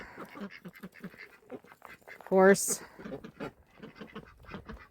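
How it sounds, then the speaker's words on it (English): A single loud duck quack rises briefly over close, steady talking. "Ducks. Ducks."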